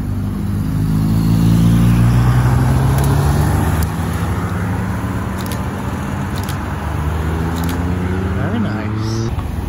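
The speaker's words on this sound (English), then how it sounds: "GT3 RS 4 litre." A Porsche 911 GT3 RS 4.0-litre at a hypercar meet idles and rumbles nearby with a steady, layered engine drone, while people talk over it.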